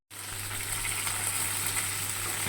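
Katla fish frying in a pan for a Hyderabadi korma, a steady, even sizzle of hot oil that starts abruptly and holds close and constant.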